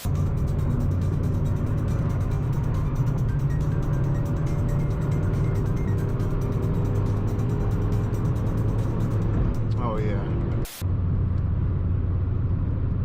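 An 8th-generation Honda Civic Si engine pulls hard through VTEC while driving, a loud, steady in-cabin engine roar with rising harmonic lines that runs continuously, briefly cut by a sharp gap near the end.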